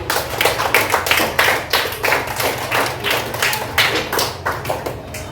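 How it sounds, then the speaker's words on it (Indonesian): A class of students clapping their hands together in a quick, rhythmic burst of sharp claps, close and fairly loud, continuing steadily for several seconds. "Kita tepuk tangan untuk kita karena kita hadir semua hari ini."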